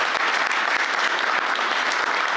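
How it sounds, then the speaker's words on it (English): Dense, steady applause from an audience at a fireside chat event, sustained and even throughout with no talking over it. "Can we give him a clap?"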